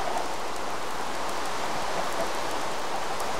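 Rain falls in the video game Minecraft as a continuous, even hiss of downpour with no breaks and no talking.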